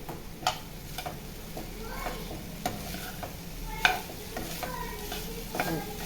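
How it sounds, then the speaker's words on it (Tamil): Vegetables for veg fried rice fry in oil while a utensil stirs them, giving a low, steady sizzle broken by scattered clicks and scrapes against the pan. No one speaks. "இந்த காய் கொஞ்சம் எண்ணெயிலே வெந்தாச்சு."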